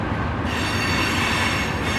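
A long freight train of hoppers, tankers and gondolas rolls past at close range in Kansas City, a loud continuous roar of wheels and cars with no pauses.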